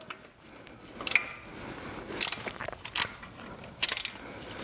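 Ratchet wrench clicking in short bursts while snugging bolts on a BMW S85 V10 engine from an E60 M5, several brief close ratcheting runs separated by pauses, no talking.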